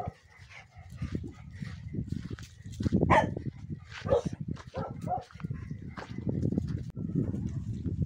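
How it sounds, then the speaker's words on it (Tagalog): Dogs bark repeatedly at a moderate distance on a farm, mixed with some voices and background activity throughout. "Sino ba yung tinataw na ito mga aso?"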